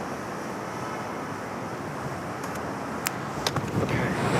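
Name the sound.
wind blowing outdoors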